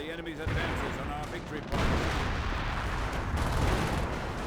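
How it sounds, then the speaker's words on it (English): Artillery barrage in Company of Heroes, a World War II strategy game: a dense, continuous rumble of distant shell blasts and gunfire rolls on without a break, rising in intensity partway through. "I think that's a decoy barrage?"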